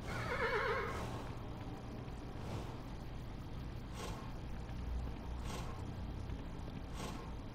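A horse in the game Kingdom: New Lands gives a wavering whinny at the start, followed by soft rhythmic hoof thuds and light ambient noise.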